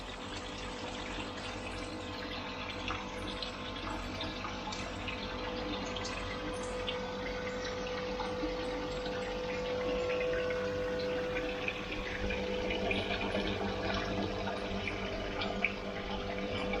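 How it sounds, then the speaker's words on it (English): Water runs steadily through a homemade aquarium canister filter, a continuous moderate rushing and trickling with faint gurgles that holds evenly throughout. "This is going to be a nice flow for the aquarium."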